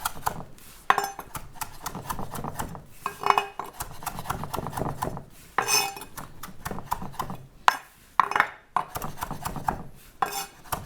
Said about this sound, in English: we're gonna garnish and chop our cilantro